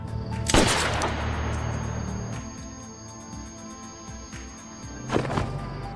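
A single sharp gunshot rings out in a film scene as a woman shoots a man in the chest, followed by a lingering tail and a second loud impact near the end, with no talk.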